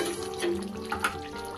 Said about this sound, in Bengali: দেখতেই পাচ্ছেন কত সুন্দর এটা চিকেনটা আমার ফুটছে